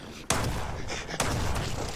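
Two sharp gunshots from a firearm in the Mist Survival game, about a second apart, each a loud broadband crack with a short decaying tail over a steady background.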